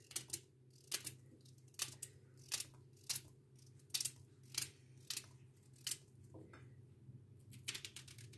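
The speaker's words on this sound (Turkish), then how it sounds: "Şimdi malzemelerimi brokolilerimin içine keseceğim." An onion is cut with a knife straight into a pot of broccoli for soup, crisp regular snipping chops in a steady rhythm over a low background hum, then a pause and a few more cuts.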